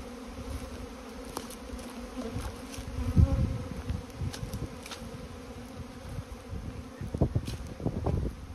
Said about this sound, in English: Bees are flying.